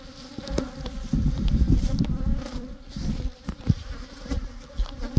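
Honey bees in spring buzz densely around a beekeeper outdoors, a steady close swarm hum with individual insects zipping past.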